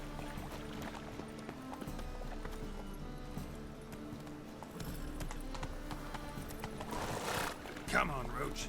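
Hooves of Roach, a horse in The Witcher 3, clop in a steady rhythm under game music and ambient sound, with a brief burst of louder movement near the end.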